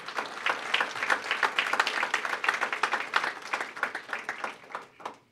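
A round of applause rises from the audience at a North Omaha press conference. Many distinct hand claps form a lively moderate-volume patter that thins out near the end.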